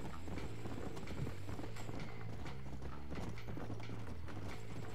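Horse hooves clip-clop steadily in Red Dead Redemption, a rapid continuous gallop over ground with a dense, loud rhythm and faint game ambience behind it.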